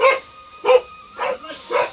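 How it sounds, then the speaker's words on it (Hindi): A dog barks four times at a steady pace, sharp and fairly close, while a tiger is nearby on the path below in a hillside setting; no talking is heard. "कुत्ता भौंक रहा है, क्योंकि इधर आ रखा है नीचे रास्ते में बाघ"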